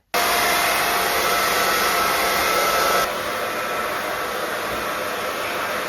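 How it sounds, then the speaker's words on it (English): A hair dryer roars steadily at close range after a sudden start, dropping slightly in pitch and level partway through, with no talking. "I might stick the hairdryer back on it"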